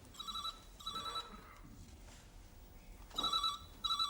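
A telephone bell rings in short trilling bursts, pausing between rings, fairly close in a quiet room.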